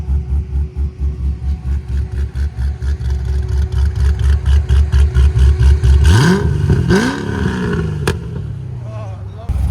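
A cammed Chevrolet Corvette Z06 with a 7.0L V8, headers and Valvtronic valves closed, idles with a loud choppy pulsing lope close by, then revs up sharply a couple of times and settles.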